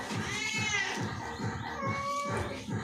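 A cat meows repeatedly and close by while small fish are scaled and gutted with a knife, its drawn-out cries rising and falling over steady rhythmic thumping and scraping.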